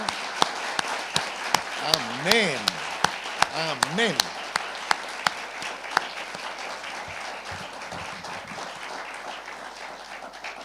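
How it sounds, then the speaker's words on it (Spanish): A church congregation claps at a service, steady scattered hand claps running throughout at moderate level while voices call out briefly over them. "¿qué les parece si los recibimos a ellos con un buen aplauso al Señor por la vida de nuestro hermano?"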